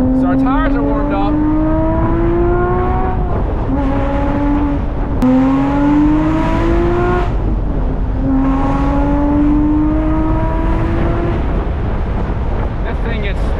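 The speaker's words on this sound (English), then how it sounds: "Just these downshifts." A manual Porsche Boxster Spyder engine rises and falls through repeated rev sweeps on downshifts, loud and close, with wind buffeting across the mic and speech over it at times.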